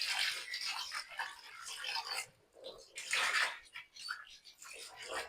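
Raw chicken pieces being washed in water, with bursts of splashing and sloshing broken by short pauses, close and fairly loud.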